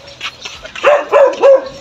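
A dog barking inside a home courtyard, several short sharp barks close to the microphone, first softer then three loud ones in quick succession near the end, alone without talk.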